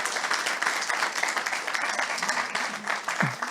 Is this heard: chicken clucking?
no